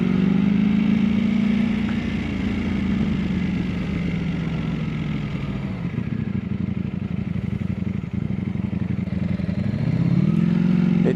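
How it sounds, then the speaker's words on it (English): A Ducati Monster SP motorcycle engine drones loudly and steadily while riding, pitch dipping and rising as it changes speed, with a constant rough rumble and no talking. "It's a Ducati Monster SP is what it is"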